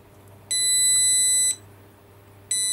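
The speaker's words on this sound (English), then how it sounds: "I'll wait for this alarm to stop" Battery management system alarm on a high-powered DIY eBike, giving loud, shrill electronic beeps about a second long, one after another with a short gap between them.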